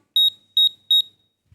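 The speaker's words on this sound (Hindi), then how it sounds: "ए के लिए बजर एक बार शॉर्ट बीप करेगा और एक बार लॉन्ग बीप" An electronic buzzer sounding Morse code gives three crisp, high-pitched beeps of similar length, evenly spaced in a quiet room, with no speech.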